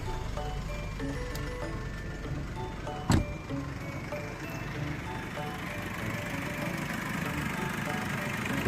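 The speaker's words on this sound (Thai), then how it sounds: "เดี๋ยวมาลองสตาร์ทเครื่องยนต์ฟังเสียงกันดูนะครับ" A Nissan Navara 2.5 LE 4x4 open-cab pickup with its engine starting, marked by one sharp jolt, then settling into a soft, steady idle.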